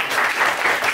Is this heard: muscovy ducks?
no